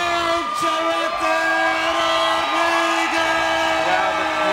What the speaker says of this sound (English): Now the crowd just rises as one